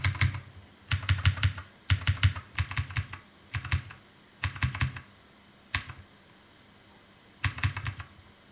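Computer keyboard keys pressed in short bursts of clicky typing, roughly eight clusters spaced across the stretch with brief pauses between, close and fairly quiet with no talking.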